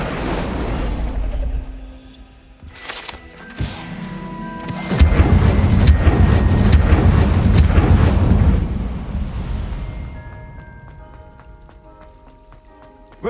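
Fire spell Incendio cast in Hogwarts Legacy: a loud roaring, crackling burst of magical flame swelling from low rumble into a sustained blaze for several seconds, then fading into a soft, lingering crackle.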